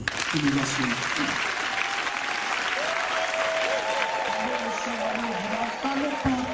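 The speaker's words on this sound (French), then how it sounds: "Il faut applaudir pour elle." Audience applause for a tenth-anniversary church celebration: sustained dense clapping throughout, with voices and a held singing or chanting tone running under it.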